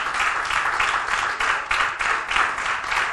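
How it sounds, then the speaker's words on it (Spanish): Church congregation applauding together during a service, a sustained wash of many hands clapping with a gently pulsing rhythm, loud and filling the room, no talk over it. "Dale tu aplauso al Señor."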